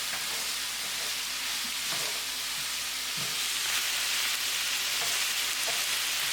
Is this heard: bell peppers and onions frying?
yes